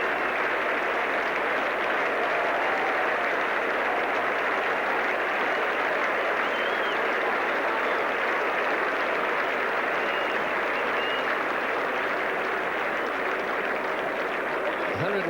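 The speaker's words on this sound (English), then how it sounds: "The Australians applauding, and the ground is rising to Kalachurran." Cricket crowd at Lord's in London during a 1975 World Cup match between Australia and West Indies, sustained broad applause from the stands as a dense, even wash of clapping heard at some distance, with a commentator talking over it.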